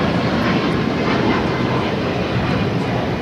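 Jet aircraft engines at LAX as a 737 MAX 8 prepares for takeoff, a loud, continuous, broadband roar held evenly throughout, with no talk.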